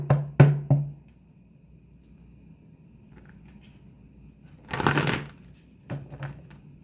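Oracle cards are shuffled in a few quick riffling bursts near the start, then quiet, then a louder flurry of card shuffling followed by a couple of brief shuffles, close and alone.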